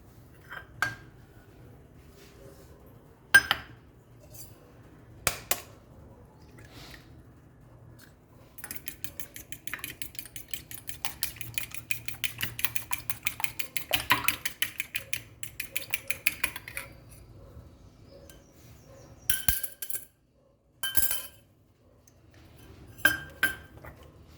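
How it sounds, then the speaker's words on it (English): An egg beaten in a bowl for churros, a long run of rapid rhythmic clinking from a utensil against the dish, framed by scattered sharp taps and pauses, close and fairly quiet. "So now we'll beat the egg."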